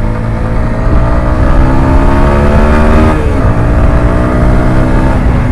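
A TVS Apache 160 4V motorcycle rides along in second gear, its engine a loud, steady hum with stacked harmonics that rise slightly and dip briefly near the middle, with no voices.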